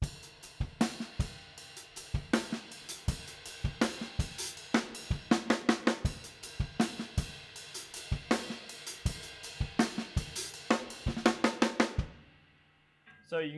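A drum groove with the ghost notes moved onto the hi-hat, giving crisp quick cymbal ticks between punchy kick and snare hits, steady and loud, ending in a decay to quiet.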